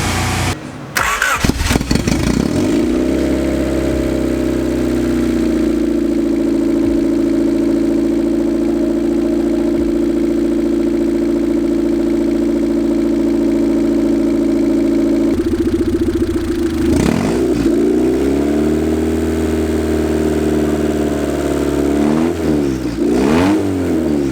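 A 1991 Honda Civic Wagon engine cranks and catches, then runs at a steady idle with a few revs partway through and again near the end, loud and close.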